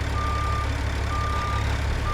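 Reversing alarm on a truck in American Truck Simulator, a steady electronic tone beeping in evenly spaced pulses over a constant low engine rumble, with no speech.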